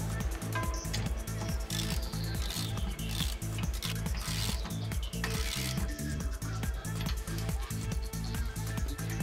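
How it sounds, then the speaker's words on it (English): A ratchet tightens a nut while a TW X-36 tyre changer from Twin Busch is assembled, giving loud, evenly spaced ratcheting clicks at a steady rhythm throughout, close by with no talking. "Retighten the nut."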